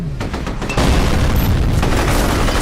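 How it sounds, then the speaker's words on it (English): A grenade detonates in a shooter video game, a heavy booming blast that swells up and then rolls on as a loud, sustained rumble, with scattered crackling gunfire just before it. "Did he just throw a grenade at me?"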